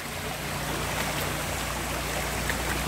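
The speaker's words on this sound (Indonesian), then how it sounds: "Ini ada air terjun Niagara di sini." Small waterfall flowing over slippery rocks in a former stone quarry, a steady close rush of splashing water with no pauses, alone and without voices.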